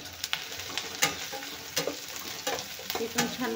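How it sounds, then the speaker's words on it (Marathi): Onion and whole garlic cloves frying in a pan, a constant soft sizzle broken by a spoon's irregular scrapes and taps, close but fairly quiet, with no one talking. "छान भाजत आहे कांदा"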